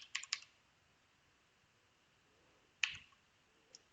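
Keystrokes on a computer keyboard entering a file path for a Honeywell Android device update: a quick cluster of clicks at the start, then a lone sharper tap near the end, all faint with no talk.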